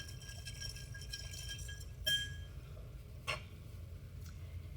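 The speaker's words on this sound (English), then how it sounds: "Just give that a nice stir." A rum cocktail is stirred in a glass, with faint ticking and clinking of a spoon and ice, plus two brighter clinks standing out against a quiet room.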